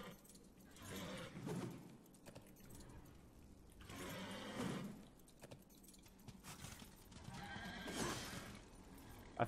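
A horse in the video game Darksiders whinnies in three repeated bursts a few seconds apart, with jangling and clopping sounds around them and no talking.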